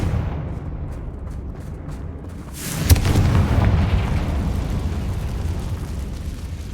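A Confringo explosive spell blast in Hogwarts Legacy, a sharp crack followed by a deep rumbling boom that swells and slowly decays over a low, steady background roar.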